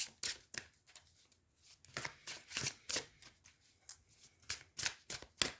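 Tarot cards being shuffled in quick, irregular bursts of crisp riffling and slapping, close by with short pauses between.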